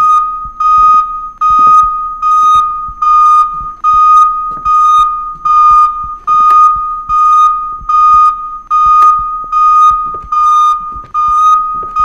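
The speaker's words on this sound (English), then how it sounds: "What do we got going on for the fire alarm?" A fire alarm in the video game Minds Eyes sounds loudly in a steady, repeating pattern of piercing electronic tones, each pulse about a second long with brief gaps and faint clicks underneath.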